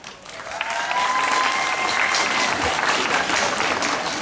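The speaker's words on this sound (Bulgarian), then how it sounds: "все тебя поддерживают бурными аплодисментами" Loud, sustained applause from an audience at the opening ceremony of the 2016 World Draughts Disabilities Championship in Kranevo, a dense wash of clapping swelling in after a brief quieter start and holding steady throughout.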